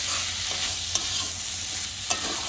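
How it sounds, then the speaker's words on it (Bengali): Masoor dal fried in a pan while being stirred gives a steady close sizzle, with a couple of sharp scraping taps from the spoon against the pan. "ডালটাকে দিয়ে খুব ভালো করে একটু ভাজা করে দিয়ে দেবো।"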